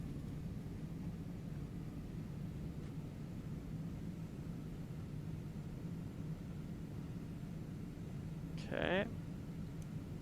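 In a Captain Sim 767 flight simulator, the airliner's thrust reversers roar during landing as a steady, low, rushing drone that carries through the whole stretch, with one short spoken word near the end.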